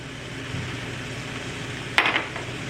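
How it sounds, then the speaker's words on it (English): Green beans frying in a pan with coriander, turmeric, red chili and amchur powders, heard as a steady close sizzle, with a brief clink and stir of a utensil near the end. "we will fry the green beans with the powdered spices for another 4 to 5 minutes"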